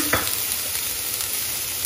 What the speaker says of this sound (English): now that you can see that I am stir-frying the onions slightly